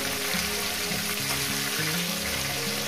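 Rohu fish head frying in a pan, giving a dense, continuous sizzle and bubbling of hot oil close by, with no voices.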